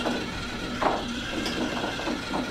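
The John Device, a rotating-mass mechanism, turns slowly at around 30 RPM and gives off steady ratcheting, gear-like clicks and rattles against a constant mechanical drone, with one louder knock partway through.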